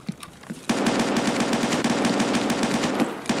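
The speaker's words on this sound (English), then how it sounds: "Is that you shooting?" Rapid automatic gunfire in a video game shooter, a few scattered shots and then a sustained loud burst of fast, evenly spaced rounds lasting nearly three seconds before tapering off.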